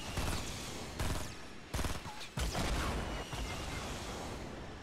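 Rapid gunfire bursts in Fortnite Battle Royale, loud dense volleys with brief gaps between clusters of shots, no talking.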